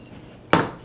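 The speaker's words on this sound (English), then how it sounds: "I'm just going to go ahead and scoop up my nuts and put them" Chopped nuts scooped into a small bowl: one sharp clattering rattle of pieces landing, close and brief, after a quiet moment.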